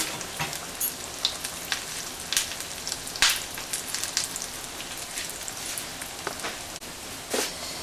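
Nargisi malai koftas crackle and sizzle in hot oil, a steady patter of fine pops with occasional sharper spits, moderately close and without any talk.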